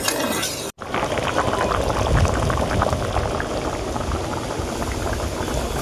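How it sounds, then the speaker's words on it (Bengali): A pot of thin chicken and potato curry simmers steadily, a dense, continuous bubbling and gurgling that stays close and even after a brief opening clatter and a momentary break in the sound. "তরকারটা এখন ফুটছে"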